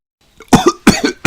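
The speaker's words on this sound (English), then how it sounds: "Pedro Pony has a nasty cough." Three sharp, harsh cartoon coughs from a pony character in Peppa Pig, in quick succession, close and loud, each a short raspy burst.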